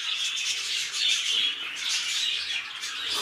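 A pair of rainbow budgerigars, a cobalt yellowface male and a mauve yellowface female, chatter in a continuous stream of close, bright chirps and warbles with no pauses.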